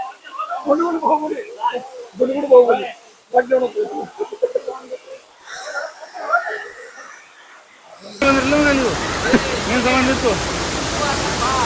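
Erimi waterfall near Kukke Subramanya in Karnataka is heard as a steady, broad roar of falling water that starts suddenly partway through. Before that, people talk over quiet surroundings, and voices continue over the rushing water.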